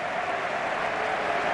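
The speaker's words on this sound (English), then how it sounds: "there'll be a big round of applause, deservedly so, for Costa" Crowd applause fills the Calderon stadium as Diego Costa of Atletico de Madrid is substituted against Real Zaragoza, a steady, broad roar of clapping held at even loudness throughout.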